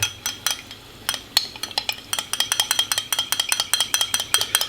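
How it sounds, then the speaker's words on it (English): Someone stirs Bombay potatoes in a pot with a utensil that clinks and scrapes against the metal. The strokes come sparse at first, then fall into a quick, steady rhythm, close and clear, with no talking. "Stir that up."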